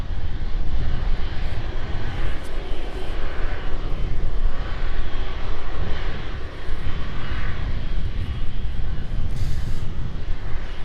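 Jet engines of a Boeing 747 cargo plane roar steadily at East Midlands Airport, a loud continuous rumble heard close by throughout.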